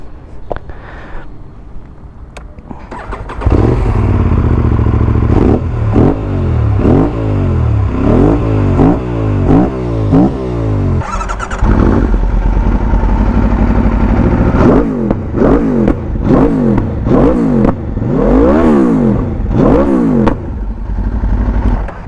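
A modified Aprilia RS457 motorcycle pulls away and rides with repeated loud rev climbs and gear shifts, the engine note rising and dropping in a rapid sawtooth pattern, close to the microphone with no talk.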